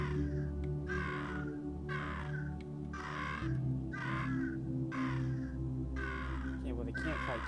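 Crows cawing in a video game, a rapid series of harsh, loud caws repeating in rhythmic bursts over a steady droning game soundtrack.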